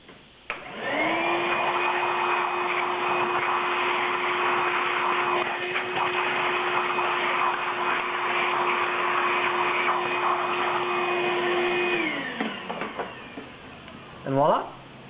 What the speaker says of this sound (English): quick vacuum again, just to clean it all out